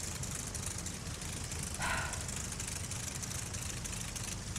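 Aircraft engine idling steadily in Flight Sim World, a constant low drone with a brief faint higher whine midway, moderately quiet and uninterrupted.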